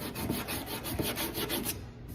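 Sandpaper rubbed over a metal edge during prep for priming and painting, giving a close, steady series of short rasping strokes in an even rhythm before stopping near the end.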